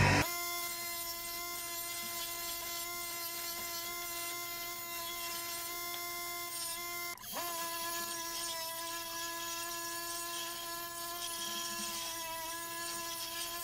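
A power tool grinds down a wooden axe handle in a steady, loud, continuous whine with a sustained droning tone, briefly dipping and shifting pitch midway before carrying on alone.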